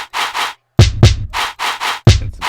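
Punchy kick drums in a hip-hop beat thump three times with deep low hits, mixed with short bright chant-like bursts and scratchy textures in between.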